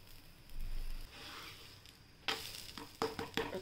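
Cheese garlic paratha cooking on a hot tawa griddle, a soft low sizzle that suddenly swells into louder crackling bursts partway through, with a few sharp scraping and patting touches near the end.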